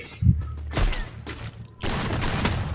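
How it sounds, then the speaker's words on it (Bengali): Gunfire in the mobile battle game Free Fire sounds in a few loud, close bursts of shots and mechanical clatter. A double sniper loadout is in use. "আমি এখানে ডাবল স্নাইপার চালাচ্ছি"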